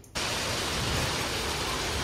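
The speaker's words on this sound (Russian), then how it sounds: "У нас просто нереальный дождь и град." Heavy rain and hail hit outside: after a brief quiet moment, a sudden dense, steady roar of downpour fills everything, loud and unbroken, with no voices.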